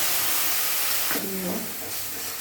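Ground cumin, coriander, dried red chili and turmeric sizzle in hot oil with browned onions, a steady, dense hiss across the whole stretch with a faint voice briefly underneath.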